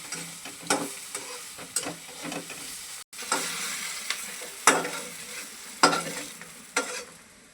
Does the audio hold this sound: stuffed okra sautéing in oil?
yes